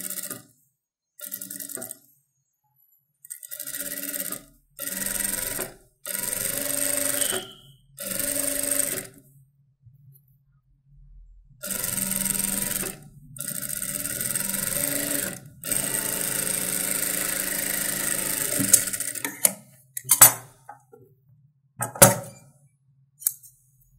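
A sewing machine stitching a saree blouse runs in steady whirring bursts of a few seconds each, stopping and starting, with light clicks and clanks between runs and a flurry of short taps near the end.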